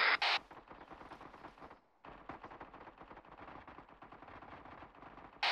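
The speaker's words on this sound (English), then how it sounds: "They've opened fired on Alpha" Sustained bursts of video-game gunfire crackle without pause for several seconds, broken by a brief silent gap near the middle, with loud sharp reports at the start and end.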